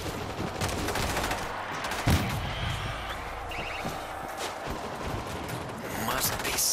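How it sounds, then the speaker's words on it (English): Mounted machine gun fire in the zombie shooter World War Z, Moscow level, rattles on as a dense continuous barrage, loud and close, with a heavier thump partway through and faint voices mixed in. "Machine gun is in place."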